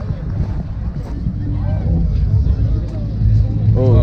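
A car drifts during a street burnout at a night-time car meet, with a steady, loud engine roar and wind rumble running throughout while people talk and shout close by.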